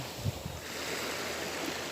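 Sea waves wash onto a shallow, clear beach in Marinduque as a soft, steady surf wash with faint low thumps, quiet and close with wind-like hiss and no talk.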